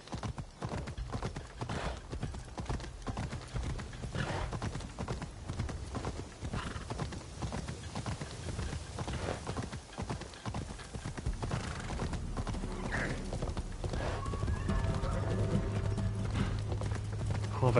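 A horse's hooves clip-clop steadily through twisting in-game town routes in Azuchi in Assassin's Creed Shadows, a continuous busy rhythm under game music and ambience, with a neigh and talk mixed in.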